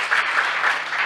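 Audience applause in a Hindi Christian sermon gathering, a dense steady wash of hands clapping together for about a second, fairly loud with no speech over it.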